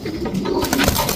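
Lahori, Shirazi and Giribaz pigeons coo close by, with soft, throaty, rolling calls that overlap through the brief moment.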